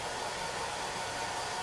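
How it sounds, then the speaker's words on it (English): Steady, continuous hair dryer blowing, a constant airy whoosh with a motor hum, close and fairly loud throughout. "I'm gonna actually put a hairdryer up on this end."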